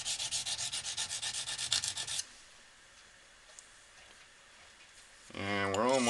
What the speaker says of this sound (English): scraping the end of that sharpening stone, we'll probably have to take a few thousandths off